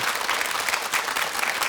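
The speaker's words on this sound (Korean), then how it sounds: "다시 한번 두 분께 감사의 박수 전해주시기 바랍니다" A television studio audience applauds steadily, a dense wash of many hands clapping at once that stays even and loud throughout the brief moment.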